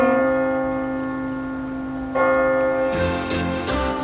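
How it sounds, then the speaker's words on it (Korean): Bells ring out in a busy Seoul cityscape near an urban architecture exhibition hall, a sustained resonant tone fading before louder fresh strikes land in the last seconds. "이 번화한 도시에서 저런 종소리를 들을 수 있다는 게"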